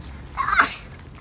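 A child gives one short, fairly loud sneeze indoors. The sneeze stands alone against a quiet background.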